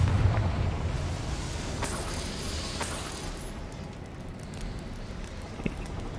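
A Confringo fire spell detonates in Hogwarts Legacy, opening with a heavy low boom that fades into a rumbling, crackling roar, with a couple of sharp bursts and a small pop near the end.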